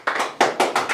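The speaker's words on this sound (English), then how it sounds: "Please give a big round of applause" Audience members at an interview-training session give a short burst of applause, about four quick, separate clap clusters in under a second. The claps are close and fairly loud.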